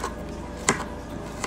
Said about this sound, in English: Grown Girl cutting up green peppers